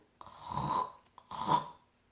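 Voice imitating snoring with the mouth open and the uvula vibrating: two rasping, fluttering snore breaths, the second shorter, close and alone.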